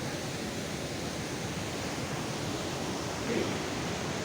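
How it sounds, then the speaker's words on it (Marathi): The Sahastrakund waterfall pours into its pool as a steady, broadband rushing roar, constant and moderately distant, with no voices over it. "इकडं बघा धबधबा कसा पडायला आहे"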